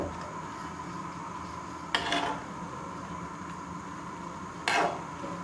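Grated carrots stirred in a pan while cooking gajar barfi; two brief metallic scrapes of a spoon against the pan, a few seconds apart, over a quiet steady kitchen background with no speech.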